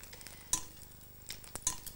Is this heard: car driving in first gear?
no